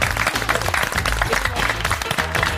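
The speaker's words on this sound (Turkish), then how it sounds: "Bir alkışlayın kendinizi" A studio audience on a television show applauds, with close, dense and steady clapping throughout.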